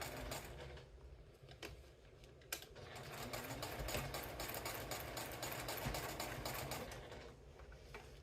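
A sewing machine stitching a fabric tea wallet, a steady close whirring drone with rapid needle clatter, briefly pausing and restarting before running on continuously, with no one talking.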